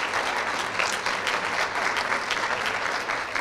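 An audience at a brain injury services reception applauds steadily and fairly loudly, a continuous wash of clapping with a faint murmur of crowd noise underneath.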